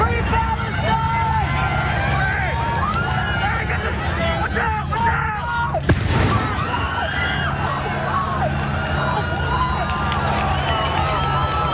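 Fireworks bang amid fighting at a pro-Palestinian protest encampment at night, with a loud burst near the middle over a dense crowd roar of shouting voices and commotion.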